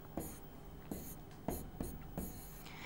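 Pen strokes scratch across paper as a pair of brackets is written in a quadratic equation: a handful of short, soft, close scrapes spaced evenly over a few seconds.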